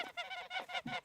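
Geese honk in a quick run of about five harsh, nasal calls, close and clear, with no voices over them.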